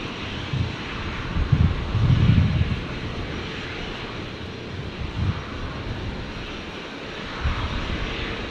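Virgin Australia Boeing 737 on final approach to runway 19 left at Brisbane, a steady distant jet engine roar mixed with wind buffeting on the microphone, no voices.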